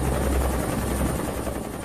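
A helicopter in flight over a besieged compound near Waco, a steady loud rotor and engine roar that fills the whole clip without talk.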